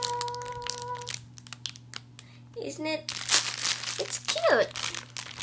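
Plastic packaging around a watermelon squishy toy crinkles and crunches in several close bursts, with a voice speaking briefly between them.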